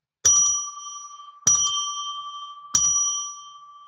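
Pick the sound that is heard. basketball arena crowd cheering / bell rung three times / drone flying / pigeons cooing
bell rung three times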